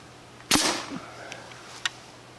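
A custom Nerf Titan foam rocket fired by compressed air at 80 PSI: one sharp, loud pneumatic pop with a rushing whoosh that fades quickly, then a faint distant tap.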